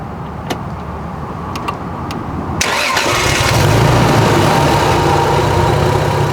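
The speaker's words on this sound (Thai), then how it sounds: "มาฟังเสียงเครื่องยนต์กัน" Toyota Supra 3.0 RZ-S Mark 4 engine, UK spec, cranks and fires up after a couple of quiet clicks, then settles into a loud, steady idle close by.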